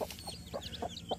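A country hen, sitting over her newly hatched chicks, gives a rhythmic series of five soft, quick clucks close by as rice is scattered for her, with faint higher chirps above and no talking.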